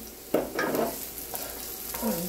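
Onion cooks in olive oil in a pan with a low steady sizzle, opened by a sharp clack and a few spoon stirs and scrapes nearby.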